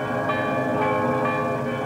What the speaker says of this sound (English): First ring the bells of St.